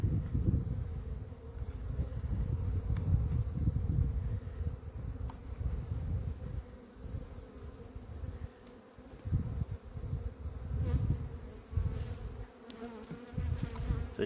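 A dense, steady hum of many honeybees swarms around an opened mini-nuc hive, loud and close, with buzzing rising and falling over faint wind, and no speech.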